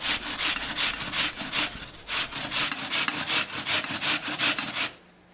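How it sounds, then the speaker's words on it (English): A peeled, cored apple is rubbed against a grater in about fourteen brisk, even rasping strokes, close and fairly loud, before the scraping stops and falls quiet. "I peel the apple. I'm gonna grate it."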